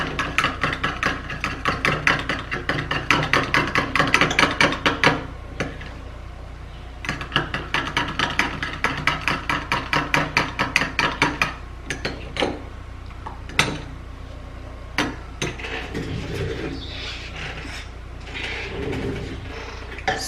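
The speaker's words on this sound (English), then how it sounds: "give it a good stir" A homemade skincare mixture is stirred in a container, making steady, rapid clinking and scraping in bursts with brief pauses, close and fairly loud, with no voices.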